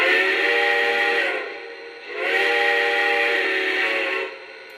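A steam whistle blows twice in long, steady, softened blasts with a brief pause between, fairly loud and close.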